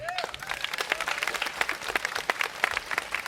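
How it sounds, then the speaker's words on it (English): Applause from a concert audience for a string band, a dense wash of many hands clapping at steady strength with scattered sharper claps and some voices mixed in. "Give yourselves a round of applause"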